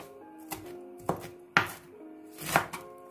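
A knife chops fresh, washed spinach leaves finely on a board for palak gosht: five or six crisp, separate thuds at an uneven pace, close and clear, with a faint tonal ring between strokes and no talking.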